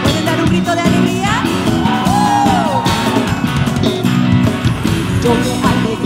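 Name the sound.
church congregation shouting for joy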